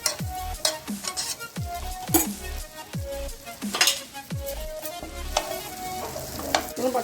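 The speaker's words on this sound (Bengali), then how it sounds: "গরম কড়াই অনেকটা পরিমাণে বাটার দিয়ে দিয়েছি" Butter melting in a hot kadai, sizzling steadily with repeated stirring scrapes and clinks of a utensil against the pan, close and fairly loud throughout, with no talking.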